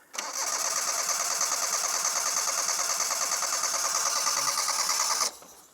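An engine is cranked and catches, then holds a steady, buzzing, mid-pitched drone for about five seconds before abruptly cutting out, heard close up with no talking.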